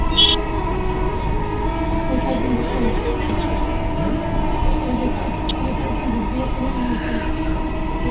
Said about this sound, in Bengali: এখন আমরা মেট্রো রেলের ভিতর থেকে ভিডিও করতেছি